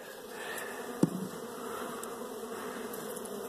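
A steady, soft insect buzz hums throughout, like many honeybees droning together at a hive during a spring inspection, close by, with one brief faint knock near the start.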